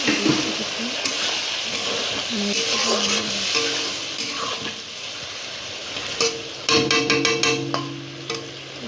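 Pointed gourd curry with spices simmers in gravy in a pan while a spoon stirs it, giving a steady bubbling sizzle and scraping. Clear utensil clinks come near the end, and no one speaks.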